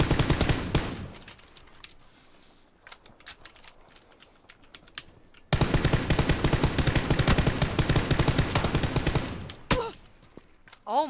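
Rapid bursts of automatic gunfire from a battle royale video game crackle in dense volleys, sparse at first then a loud sustained barrage from the middle onward, ending with a few whooshing effects.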